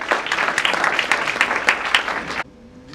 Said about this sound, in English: May we have a huge cheer,